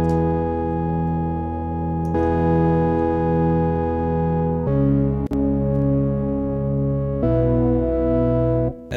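A dry saw-wave synthesizer with no effects plays sustained chords, four long held chord changes in steady succession, loud and alone with no voices.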